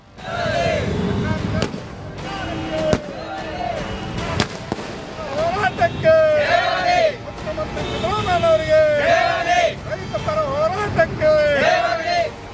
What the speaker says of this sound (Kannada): ಪಟಾಕಿ ಹೊಡೆದು ರೈತರ ಸಂಭ್ರಮಾಚರಣೆ